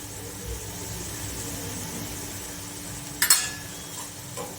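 Spices such as coriander-cumin powder and garam masala being stirred into a vegetable Kolhapuri curry in a pan, giving a low steady sizzle and faint stirring, then a brief sharp metallic clatter of utensil on pan near the end.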